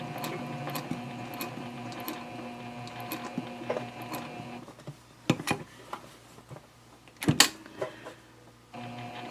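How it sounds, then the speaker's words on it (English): A sewing machine runs a steady mechanical whir while stitching the side seam of a tote bag, then stops and starts in short bursts with clicks and clunks of handling. "Okay, we'll sew up this side."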